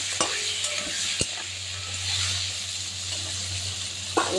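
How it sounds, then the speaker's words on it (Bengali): Crabs fry in hot oil in a wok, a steady low sizzle running throughout, broken by a few sharp clinks of a spatula against the pan. "এবার আমি কাঁকড়াগুলো সব দিয়ে দেবো, ভেজে নেবো কাঁকড়া।"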